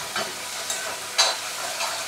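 Tomatoes and onions frying in a pan for a bitter gourd poriyal, with a steady close sizzle and a few brief louder bursts as the vegetables are stirred.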